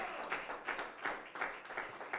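A church congregation claps for the Lord in a rhythmic, sustained round of applause, steady and moderately close, with faint voices underneath.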